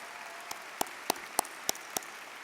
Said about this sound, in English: how about a round of applause for our marching band and our band students, our chorale students, and all of our musical performers